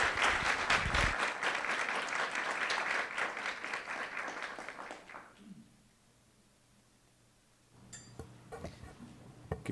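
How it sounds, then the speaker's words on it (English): Steady audience applause at a school board of education meeting fills the first five seconds, then fades into near-quiet room tone with a few scattered knocks and rustles. "Let's give them another round of applause."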